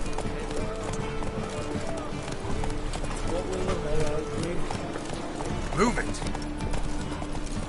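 Horse hooves gallop in Witcher 3, a steady clip-clop under continuous game music and ambience, with a brief whinny near the end and someone talking over it.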